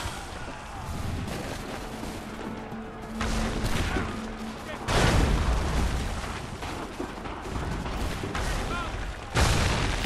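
Musket volleys and cannon booms from the Battle of Bunker Hill in Assassin's Creed III, dense rumbling blasts with a few louder volleys standing out, while someone talks throughout.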